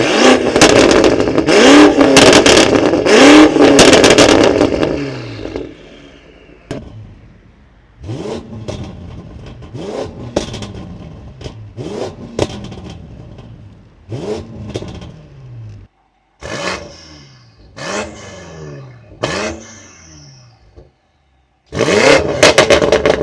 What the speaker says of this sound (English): Let's go and show you guys some revs of this car. Sport Plus with the valves open is insanely loud